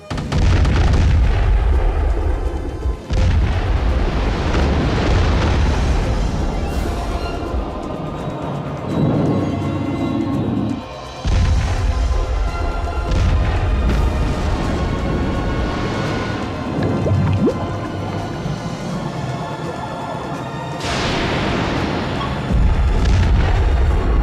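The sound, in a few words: gunfire and explosions in film battle scene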